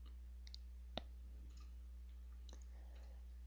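A single sharp mouse click on a computer while working in CATIA design software, with a few fainter ticks and taps scattered around it over a low steady electrical hum.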